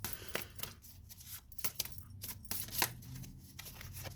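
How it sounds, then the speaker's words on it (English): Quiet papery riffles and soft slaps repeat in short bursts, a deck of tarot cards being shuffled up close. "2 more shuffles"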